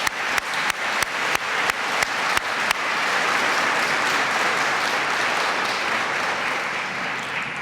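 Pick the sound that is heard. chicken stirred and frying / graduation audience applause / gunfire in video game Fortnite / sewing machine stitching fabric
graduation audience applause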